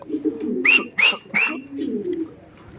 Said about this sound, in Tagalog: First bird natin galing Antipolo.